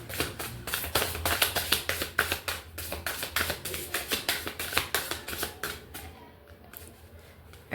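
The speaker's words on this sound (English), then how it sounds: "Okay, one more shuffle." Rapid riffling taps of a deck of oracle cards being shuffled, a quick papery flutter repeating in bursts close by, then trailing off into quiet.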